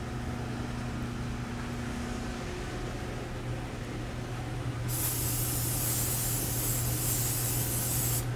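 About five seconds in, pan coating spray hisses onto a grill pan in one steady, loud burst that runs to the end over a constant kitchen hum.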